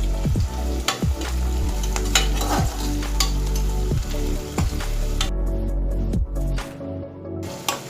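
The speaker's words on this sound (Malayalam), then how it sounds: "ഒരു സബോള അരിഞ്ഞത് നീളത്തിലരിഞ്ഞത് ഇട്ട് കൊടുക്കാം കേട്ടോ." Lengthwise-sliced onion fries in a pan for mutton roast, a steady close sizzle with regular scraping stir strokes about every second, loud and unaccompanied by talk.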